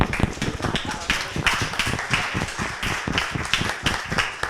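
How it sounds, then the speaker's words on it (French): A small group claps steadily and briskly, the hand claps close and irregular, with a few murmured voices underneath. "Bravo, on peut l'applaudir."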